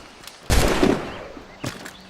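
Two gunshots ring out in Assassin's Creed Rogue: a loud, sharp blast with a lingering tail, then a shorter, fainter shot about a second later.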